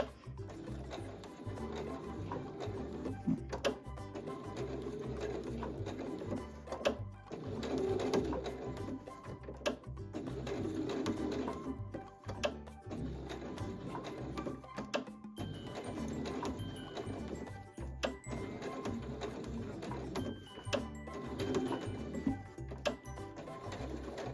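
A sewing machine stitches back over its first stitches while practicing lines and curves, giving a continuous close mechanical whirring in repeated runs with short breaks between bursts.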